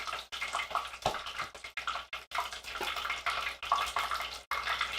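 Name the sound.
fish frying for a crispy fish sandwich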